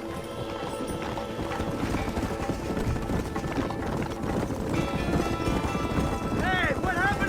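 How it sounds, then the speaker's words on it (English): Horses galloping at speed in the Red Dead Redemption western game: a dense, steady drumming of hooves across the whole stretch, mixed with voices and other busy game sound, with a brief neigh near the end. "Get on your horses!"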